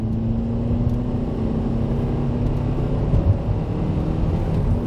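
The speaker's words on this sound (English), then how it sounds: "There's a little flare before it goes into third gear that wasn't there before." A Honda automatic transmission running through its gears, with a slight flare before the shift into third, heard as a steady low engine drone and whir from inside the car with no sharp changes.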